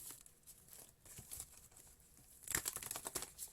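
A deck of tarot cards shuffled by hand in a quiet room, with faint papery rustles at first and then a closer, crisper burst of riffling near the end.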